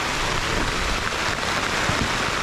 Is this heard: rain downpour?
yes